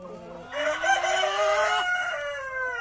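Ornamental silver Wyandotte chickens in a free-range farm coop give a loud crow with rising and falling notes, surrounded by clucking hens, close and clear without talk.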